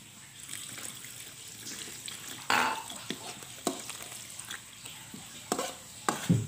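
Water being poured into chicken rica-rica cooking in a pan, a soft trickle and gentle sizzle under scattered clinks and stirring knocks of a utensil against the cookware, fairly quiet and close.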